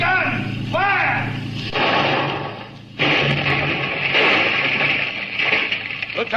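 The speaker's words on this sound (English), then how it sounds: "Make ready a boarding party, Lieutenant. Forward gun, fire!" A ship's forward gun fires in a radio drama, a loud booming report with rumbling wash, heard amid dense layered effects and voices.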